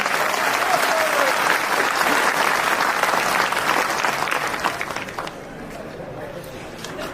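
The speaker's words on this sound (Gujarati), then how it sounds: "એક વાર જોરદાર તાળીઓ પડે તો જ મને ખબર પડે." Loud, sustained applause from a crowd at a political community gathering, a roar of many hands clapping together that thins and drops off toward the end, leaving softer clapping and murmur.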